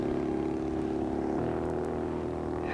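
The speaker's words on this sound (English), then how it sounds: "Malcolm leaves Paul motoring around on Botany Bay" A Seabug boat motors across Botany Bay, with a steady, dense engine drone and low hum holding constant throughout and no voices.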